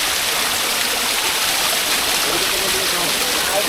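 A constant loud rush of water fills the scene at the Mayabi waterfall stream near Jaflong Zero Point in Sylhet, a steady broadband roar heard up close without pause.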